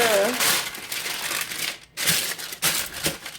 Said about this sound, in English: Now I'm gonna line my pan with parchment paper.